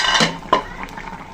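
Utensil scraping and clinking against a pot as ginger and cumin paste go into a simmering fish curry, two sharp knocks followed by softer stirring, close and alone.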